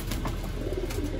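A pigeon coos in a short, low murmuring phrase close by, amid play pigeons being trained.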